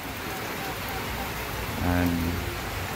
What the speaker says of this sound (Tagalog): Ulan na naman. Grabe po.